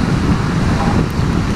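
Strong storm wind during a motorcycle ride, a loud, dense roar buffeting the microphone with no break, over a low rumble.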